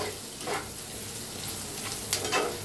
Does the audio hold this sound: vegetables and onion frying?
yes